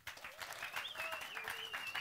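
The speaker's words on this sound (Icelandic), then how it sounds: "Ef við ekki að gefa þeim gott klapp." Congregation applauding in a church service, steady dense clapping throughout the short stretch with a sustained sung or played tone drifting over it.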